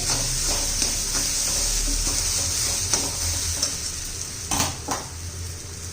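Green peas heated in a pan with a steady sizzle, a spoon or spatula scraping and clinking against the metal as they are stirred, with louder sharp knocks near the end.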